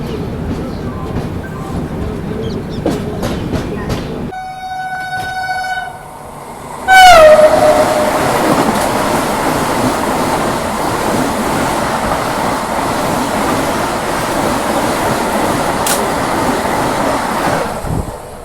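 The Kushinagar Express, running from LTT Mumbai to Gorakhpur, sounds at a railway station with a rumble of rolling stock, several held horn tones, and then a loud, close surge of train noise that roars on steadily until it cuts off.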